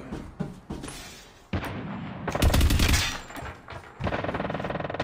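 Rapid bursts of automatic gunfire in the mobile shooter Call of Duty: Mobile during a ranked bomb match, loud sharp rattling volleys with a heavy boom in the middle and a fast stream of shots at the end.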